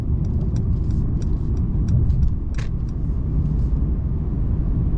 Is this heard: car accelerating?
yes